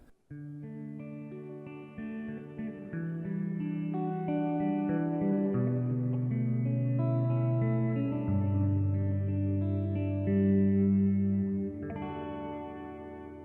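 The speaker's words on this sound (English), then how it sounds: "Number 5 is shimmer mode, very mild, I think." Electric guitar played through an effects pedal set to a mild shimmer reverb mode, sustained chords ringing out with a smooth, layered wash of reverb and echo, steady and fairly loud with no talking.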